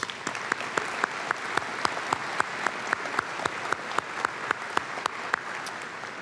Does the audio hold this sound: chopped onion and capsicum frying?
no